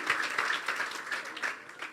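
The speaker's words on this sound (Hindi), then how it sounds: "यस्सु के लिए जोरदार तालियां बजा रहे हैं" A church congregation claps loudly for Jesus while standing during a worship song, a dense run of rapid, uneven applause that swells and fades in waves.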